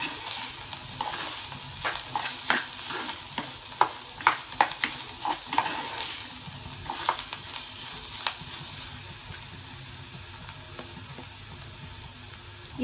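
Chopped onion and garlic frying and stirred in a pan for drumstick poricha kuzhambu, a steady close sizzle with repeated sharp scraping stirs in an irregular rhythm, no voices.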